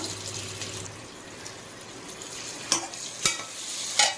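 A soft, steady sizzle of taro root frying in oil with fennel seeds, broken by a few sharp clatters and scrapes of stirring, close by with no talking.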